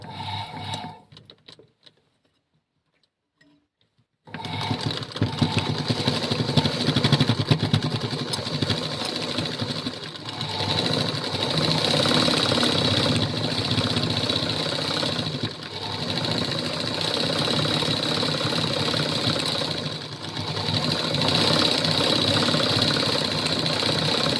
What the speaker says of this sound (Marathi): मी काच हाताने न बनवता मशीनवरच काच बनवते.